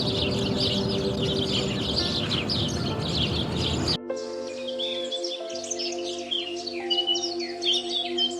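Migratory birds in Bangladesh chirping and calling, a dense chorus of overlapping tweets over a noisy backdrop that shifts partway into clearer, sparser calls with steady tones underneath.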